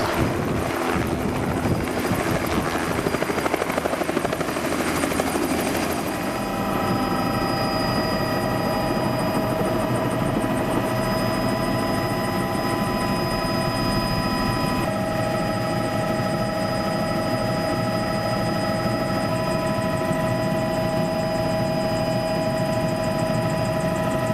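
A helicopter over Rio de Janeiro drones loudly and continuously, rotor thump and engine whine steady from start to finish, with no voices.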